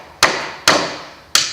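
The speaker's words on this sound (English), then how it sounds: "drive your nail" A hammer drives a nail into wood with three sharp, loud, close strikes. Each strike rings briefly and the strikes come at uneven intervals, with no talking.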